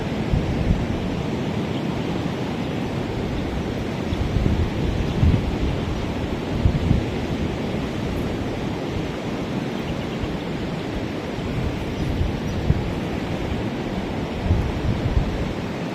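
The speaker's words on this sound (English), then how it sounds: "It's really windy out here" Steady wind roar with crashing surf on a beach, a continuous loud broadband rush that swells now and then, no voices.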